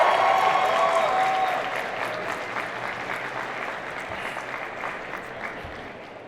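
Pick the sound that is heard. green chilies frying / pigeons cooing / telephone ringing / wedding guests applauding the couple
wedding guests applauding the couple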